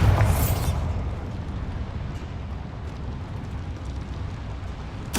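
A Bombarda explosion spell in Hogwarts Legacy bursts loudly at the start, then settles into a long, rumbling roar that slowly fades before a fresh burst at the end.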